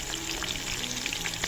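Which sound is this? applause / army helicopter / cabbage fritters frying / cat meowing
cabbage fritters frying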